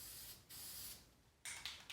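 Short hissing bursts of spray paint coating a welded BMW E92 M3 muffler, close and clear, three separate sprays with brief pauses between them.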